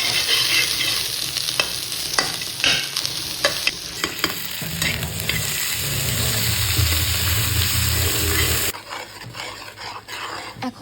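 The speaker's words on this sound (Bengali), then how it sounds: "আমি এখনই বুটটা ভুনা করে নিচ্ছি" Chickpeas are dry-fried in a pan while a utensil stirs them, making repeated close scraping and rasping strokes over a light sizzle. The stirring stops near the end, and nobody speaks.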